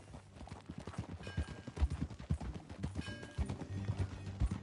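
Horse hooves clip-clop in an uneven, steady rhythm of fairly faint thuds, with no talking heard.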